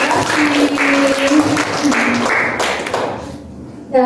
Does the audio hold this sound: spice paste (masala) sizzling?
no